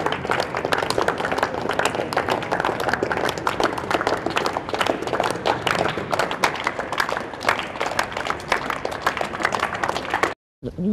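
Sustained, dense applause from a crowd at an outdoor political rally by the Italian Parliament, loud and unbroken for about ten seconds before cutting off abruptly.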